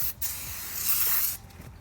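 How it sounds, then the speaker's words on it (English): Brake cleaner sprays onto new front brake rotors during a Honda Pilot brake job: a single close, steady hissing burst of about a second, with quiet handling noises before and after. "Make sure you're spraying with some brake cleaner."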